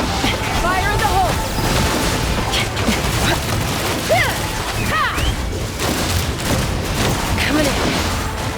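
Explosions and bursts of gunfire in Genshin Impact, a dense run of booms and crackling blasts that never lets up, with whistling tones layered over it and voices calling out across the noise.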